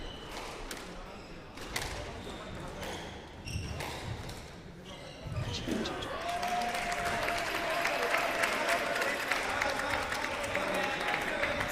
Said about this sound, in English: Our Canadian crowd is getting loud.